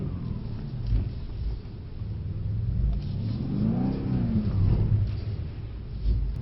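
A Mercedes C63 S AMG on a race track held at full throttle, its engine giving a steady loud rumbling drone that swells and rises in pitch midway, with no speech over it.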